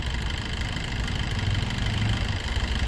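A 2018 Swift Dzire diesel car engine idles in a steady, even low rumble with a constant hum that holds unchanged throughout, close by and with no voices.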